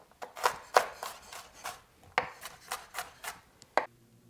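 A knife chops diced onions on a cutting board in a series of close, crisp, uneven strikes, with short pauses between bursts of cuts.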